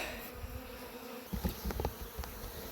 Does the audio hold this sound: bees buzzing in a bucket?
yes